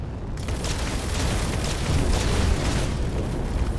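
Turret and rocket launcher fire in a Space Engineers space battle against a Borg cube, a dense continuous roar of booming blasts and bursts, loud and close throughout.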